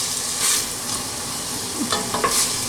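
Napoli sauce is stirred into bolognese meat frying with parsley and basil, giving a steady close sizzle with scraping spoon strokes and a few brief sharper bursts.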